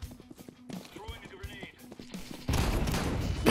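Gunfire in Counter-Strike 2, rapid shots popping amid game noise and footsteps, building into a dense, loud burst of fire at the end, with a voice talking over it.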